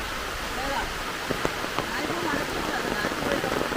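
Steady rain patters on surfaces around a house in Mundakkayam, Kerala, during windy, wet weather. The hiss is continuous and fairly soft, with a few sharper drips standing out.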